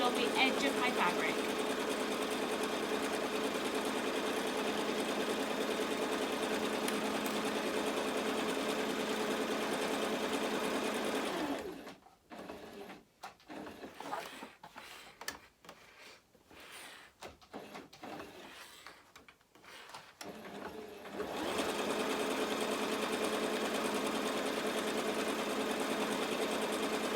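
A sewing machine stitches a reversible fabric tote bag, its close, steady motor whir running continuously, pausing for several seconds in the middle with some quieter irregular handling, then resuming at full speed.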